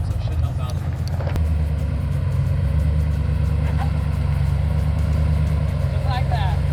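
A Jeep on big tires idles and rumbles steadily as it creeps up a steep sand hill at Sand Hollow, Utah, a deep, even engine drone with a voice talking over it.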